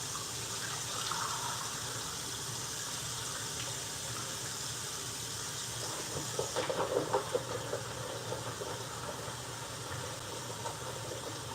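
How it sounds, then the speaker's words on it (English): Tap water runs steadily as potatoes are rinsed beneath it, a constant rushing hiss with a low hum beneath and a few brief clunks partway through. "now let's rinse our potatoes off."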